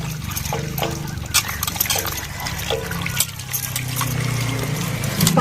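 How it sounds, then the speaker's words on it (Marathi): Water pours steadily over cut raw jackfruit pieces in a kitchen vessel, a continuous close splashing trickle running the whole time, alone without talk. "बघा, आता मी पाणी टाकते"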